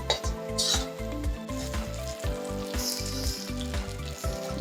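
Food fries and browns in an iron pan, stirred with a flat iron spatula (khunti), a continuous crackling sizzle broken by frequent rhythmic metallic scrapes and knocks against the pan.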